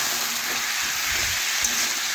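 Vegetables and spices fry in a pan for a Bengali vegetarian dish made with biuli dal powder, a steady, close hiss of sizzling that runs without pause and with no talking.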